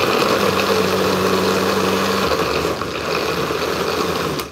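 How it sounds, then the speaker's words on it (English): An overstuffed blender strains loudly as it churns a thick load, its motor droning steadily with a low hum that shifts pitch partway through before cutting off near the end. "I'm gonna have to buy her a new blender."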